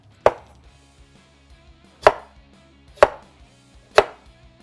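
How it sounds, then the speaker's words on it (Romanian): A knife chops through the ends of a peeled apple on a cutting board, four sharp, distinct thunks spaced about a second apart, close and clear with quiet between them. "Să-i tai capetele."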